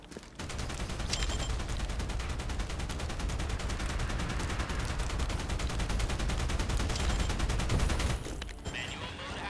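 Rapid sustained turret cannon fire from the video game Outpost Infinity Siege, a dense, loud, continuous rattle of shots lasting about eight seconds before cutting off abruptly.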